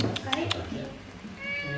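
A cat meowing nearby, a short cry at the start, while a person speaks over it.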